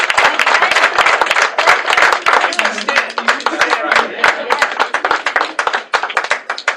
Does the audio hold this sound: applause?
yes